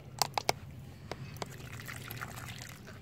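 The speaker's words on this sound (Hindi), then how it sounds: "अच्छे से पानी डाल देंगे नीचे तक जाके पानी जा सके" Water trickles and pours steadily into the soil of a potted rose plant, faint and close, after a few sharp clicks at the start.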